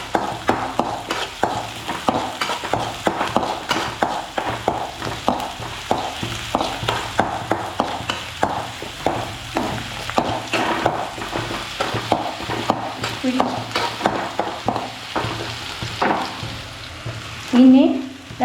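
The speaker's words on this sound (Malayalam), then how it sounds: "ഈ അരിഞ്ഞു വെച്ച ചെറിയ ഉള്ളി ഇട്ട് വറുത്തെടുക്കാം" Chopped small onions fry in hot oil in a pan for a Kerala ginger curry, a close, steady sizzle broken by repeated scraping as a spoon stirs them.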